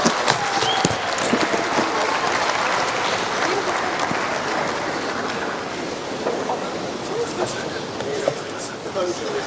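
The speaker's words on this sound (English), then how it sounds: "another round of applause for His Excellency, President Comrade Dr. E.D. Mnangagwa" A large audience applauds steadily at a formal national enterprise event in Zimbabwe honoring the president, dense clapping sustained throughout with crowd noise.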